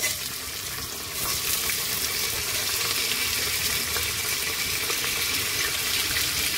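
Sliced onions and spices frying and stirred in hot oil for chana dal khichdi, a steady dense sizzle close up that swells louder after the first second, with no voices.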